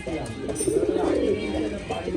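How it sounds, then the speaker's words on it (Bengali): A male Karmona fancy pigeon coos inside its pen, a steady low murmuring call running continuously at close range over a slightly noisy background. "কর্মনা মেলটা কত অ্যাক্টিভ দেখুন সেটি পেয়ারের ভিতর ডাকছে"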